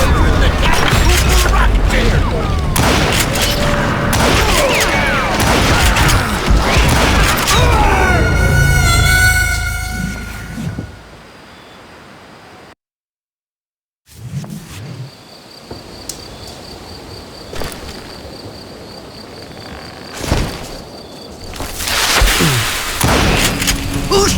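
Gunfire in the Call of Juarez: Gunslinger video game, loud repeated shots and booms under shouting voices, then a sudden drop to near silence before quieter ambience and further bursts return.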